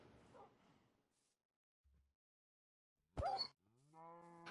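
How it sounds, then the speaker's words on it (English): A Minecraft cow gives a short, clear moo close by, preceded by a brief hit sound and a gap of quiet. "Kill cow."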